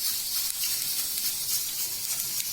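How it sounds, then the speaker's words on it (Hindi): Onions frying in a pan of hot oil give off a steady, bright sizzle and hiss that runs unbroken and close by, with no voices over it. "जैसे ही ये गर्म हो जाता है तो हम इसमें ऑनियन को हम फ्राई कर लेंगे।"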